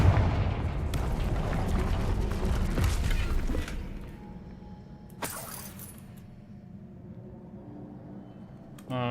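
A Confringo fire spell blast in a Harry Potter video game: a loud rumbling explosion with debris clatter that fades into a quieter hum, then a sharp burst and a renewed surge at the end.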